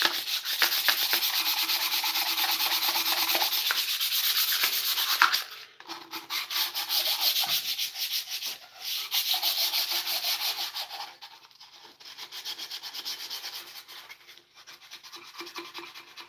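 Sandpaper rubs on wood on a guitar build, with a steady, close scratchy rasp that runs continuously at first, then breaks into shorter strokes with brief pauses.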